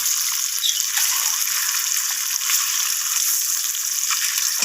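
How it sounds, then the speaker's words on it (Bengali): Beaten eggs seasoned with salt and turmeric frying in hot oil in a pan, a steady, close crackling sizzle with no talk. "এরপর আমি ডিমগুলোকে লালচে করে একটু ভেজে নিচ্ছি"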